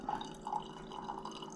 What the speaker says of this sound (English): See, it's got a little hole in it, so it's draining out.